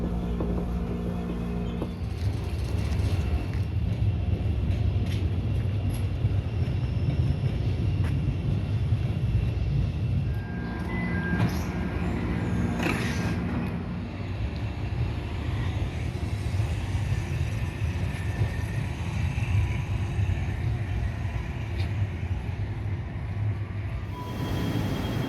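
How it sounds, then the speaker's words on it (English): A CTA Brown Line train on the Ravenswood branch rumbles along the rails inbound toward the Loop, a loud continuous low roar with rolling wheel noise and brief metallic squeals, heard from inside the car for the whole stretch. "This is a Brown Line train to the loop."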